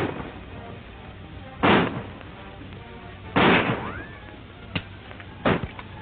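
Gunfire in an old black-and-white western shootout, a few sharp bursts spaced over several seconds with a couple of smaller cracks, over a thin, hissy film soundtrack.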